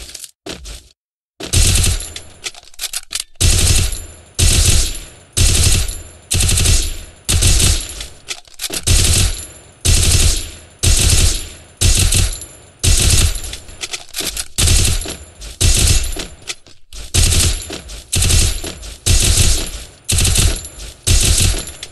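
Rapid gunfire and headshots ring out in a mobile shooter game's training ground played on BlueStacks, loud repeated bursts of shots roughly every second over twenty seconds, with no voice.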